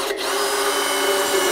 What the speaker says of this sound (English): I'm using about a 5/16 drill bit.